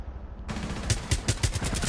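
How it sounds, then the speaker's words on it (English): Rapid gunfire in Rainbow Six Siege cuts in after a quiet moment, a close, loud burst of regularly spaced shots that keeps going to the end. "I'm constantly shooting there and this guy doesn't die."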